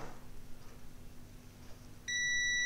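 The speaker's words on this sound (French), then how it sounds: "je vais le passer sur Ohmmètre avec le bip, comme ça sera plus simple" A multimeter on its ohmmeter continuity setting beeps while testing the under-hood light switch of a Jeep CJ, a steady electronic tone switching on near the end after quiet background.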